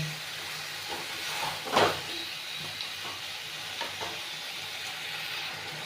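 Stirring tomato sauce into a mutton curry in a pan: a steady soft sizzle with scraping spoon strokes, one louder scrape near the start, then quieter intermittent stirring.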